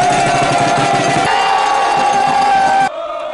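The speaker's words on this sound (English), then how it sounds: "That is Squad 6, a Milwaukee Bucks cheering section started by Andrew Bogut." Squad 6, a Milwaukee Bucks cheering section, chants loudly as a dense crowd roar with a steady sung pitch, then breaks off abruptly into quieter background noise near the end.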